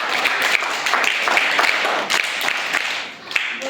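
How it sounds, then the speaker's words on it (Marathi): Children at a primary school quiz clap together in a lively burst of applause, a dense patter of hand claps in a room that thins out toward the end. "साठी सगळ्यांनी टाळ्या वाजवा"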